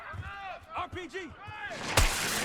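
An RPG explosion in the video game Call of Duty Black Ops 6: voices talk first, then a sudden loud blast breaks in and leaves a rough, sustained roar that carries to the end.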